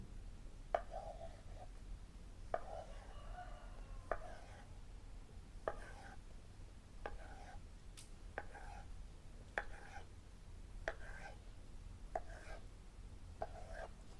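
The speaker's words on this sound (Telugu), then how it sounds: "ఇప్పుడు వచ్చేసరికి దీన్ని ముక్కలుగా కోసేసుకుందాం" Kneaded puri dough cut into pieces on a board, about a dozen faint, evenly spaced knife taps over a quiet background, with no talking.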